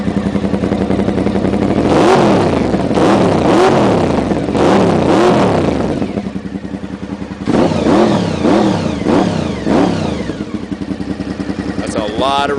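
A 1992 Honda VFR 750 motorcycle with 60,000 miles, running at about 95% power, revs hard in a string of quick throttle blips, the loud engine note rising and falling repeatedly up close.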